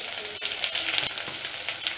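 Vegetables for Indori poha cook in a pan, giving a continuous, moderately loud frying sizzle up close with faint stirring scrapes for about two seconds, no voices present.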